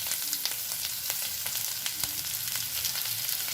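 Chili chicken ingredients sautéing in a hot pan, a dense continuous sizzle broken by brief scraping stirs and small pops, close and fairly loud with no talking.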